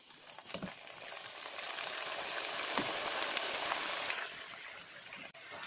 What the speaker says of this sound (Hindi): ऑयल हमने तेज़ गरम करके फिर इसको हल्की आंच पे कर लिया है ताकि हमारे पापड़ जो हैं जलने ना पाए